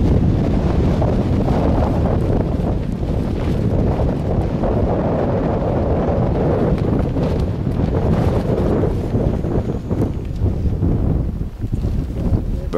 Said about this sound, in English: Windier than shit.